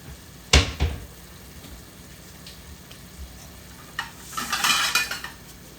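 Onions frying in a pan for a Bengali chicken roast, with a sharp clatter of utensil against metal early on, then a rising crackling sizzle and scraping stirring toward the end, heard up close with no talk.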